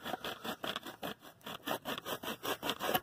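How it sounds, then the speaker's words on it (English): A rasp shapes wooden boards for a skin-on-frame kayak frame, rhythmic close-up scraping strokes, roughly three or four per second, moderately loud with no talk. "eating away at these boards until I get a wedge shape"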